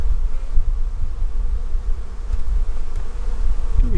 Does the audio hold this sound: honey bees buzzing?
yes